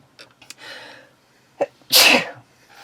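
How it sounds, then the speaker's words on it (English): A single loud, explosive sneeze close to the mic, preceded by a few soft sniffs and small sounds. "Don't know what I'm sneezing about."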